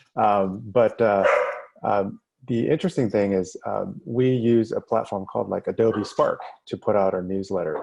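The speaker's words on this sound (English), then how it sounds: "you'll have to excuse my dog in the background there" A dog barks intermittently in the background, faint beneath a man's continuous speech that dominates throughout.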